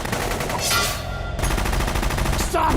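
Sustained automatic gunfire from the Metal Gear Solid digital graphic novel, loud and continuous rapid bursts filling the whole stretch, with no pause and no voices.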